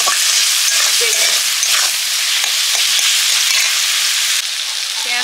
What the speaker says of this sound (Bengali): পেঁয়াজটা কষা হয়ে গেছে